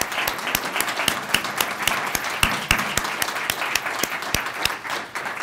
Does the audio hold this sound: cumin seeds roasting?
no